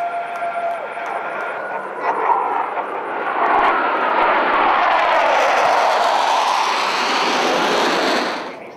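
Blue Angels military jets pass over an air show in 2008, a rising, broad roar that swells from about three seconds and holds loud and close before cutting off near the end, with a public-address announcer's voice faintly under it.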